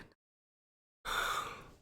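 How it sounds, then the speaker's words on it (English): A single long, breathy yawn from a podcast host, starting after a short silence and sounding close and fairly loud as it trails off. "Yawning, not knowing what to say."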